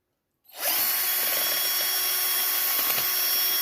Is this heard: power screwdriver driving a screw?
yes